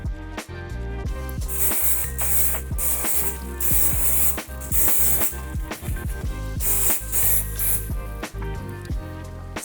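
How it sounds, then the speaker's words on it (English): Flawless Finish hairspray misted onto fine wavy hair in repeated short hissing bursts, close and bright, set against steady background music. "I'm going to use the Flawless Finish Hairspray to tame any flyaways and to give lasting definition"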